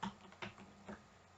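A few soft keypresses on a computer keyboard while using a Photoshop shortcut: three faint, close clicks spaced about half a second apart, with no speech.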